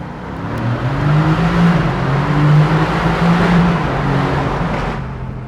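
A 2018 Mercedes-AMG GT C roadster, exhaust baffles open and in Sport Plus with manual transmission, revs loudly inside a tunnel, its engine note swelling and falling in a sustained, echoing roar for several seconds.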